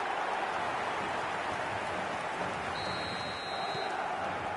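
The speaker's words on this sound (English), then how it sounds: "the roof's just about stayed on, but the crowd level has gone up a notch or 10" A stadium crowd in a football video game roars steadily after a goal, a dense, sustained wall of noise that holds loud and even throughout, with a faint thin whistle-like tone entering near the end.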